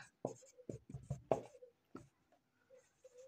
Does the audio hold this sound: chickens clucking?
no